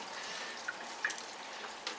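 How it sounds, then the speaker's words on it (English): Water trickling and dripping through an ITEHIL ITS 100G-HW water purification filter, a faint steady hiss of flow with a few soft individual drips. "go ahead and filter the water through there to clean that out a little bit"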